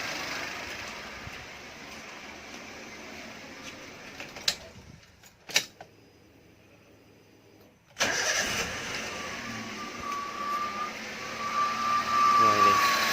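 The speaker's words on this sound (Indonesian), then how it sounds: "Coba saya starter sekali lagi. Kalau baru di starter itu ada suara ngeriknya juga." A used car with an odometer fault cranking and starting, the engine catching after a pause and settling into an idle with a rough rattling, scraping undertone, recorded close.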